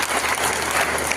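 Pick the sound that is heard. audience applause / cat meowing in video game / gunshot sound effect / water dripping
audience applause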